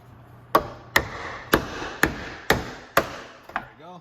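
Seven sharp metallic hammer blows on a chisel at a steady pace during Smart 451 windshield removal, each ringing briefly, then a faint scrape and tap at the end.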